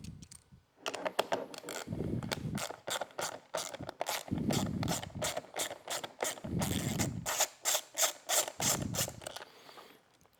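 A hand ratchet working an 8mm nut off the back of a reflector on a 2018-or-newer Honda Gold Wing, giving rapid close clicking bursts in repeated strokes with brief pauses.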